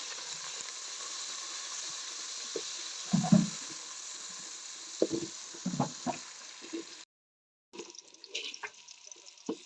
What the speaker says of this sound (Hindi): इसमें डालेंगे प्याज। प्याज फ्राई करेंगे।